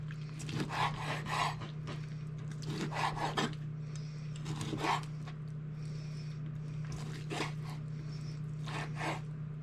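Knife chopping rabbit meat and pork fat on a cutting board, heard as bursts of rasping, scraping strokes in uneven clusters over a steady low hum, fairly close and moderately loud.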